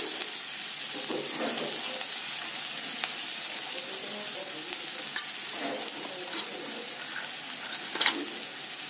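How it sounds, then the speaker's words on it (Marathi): Onion-tomato masala with coriander and turmeric sizzles in a pan for paneer tikka masala. A steady, close frying hiss runs throughout, with intermittent scraping as it is stirred. "छान असं परतवून घेणार आहोत आपण"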